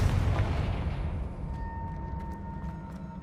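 A Confringo blasting spell goes off in the video game Hogwarts Legacy as one deep, heavy explosion. Its low rumble decays over about three seconds, with faint debris clicks at the tail.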